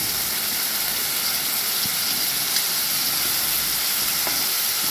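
Chopped vegetables with green chili and onion sauté in a hot pan for momo filling, giving a steady close sizzle and hiss with occasional faint stirring scrapes and no talking.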